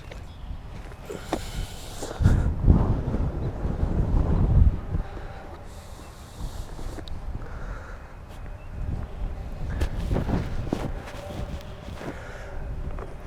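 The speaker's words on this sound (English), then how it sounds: "It's so windy." Strong wind buffets a microphone outdoors, with low rumbling gusts that swell loudest early on and again near the end, over a steady blustery background; no speech.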